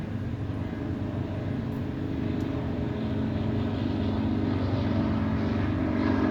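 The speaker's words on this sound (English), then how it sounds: "helicopter going overhead there" A steady, low engine drone hangs over the scene, rising slightly as the aircraft passes overhead, with no voices present.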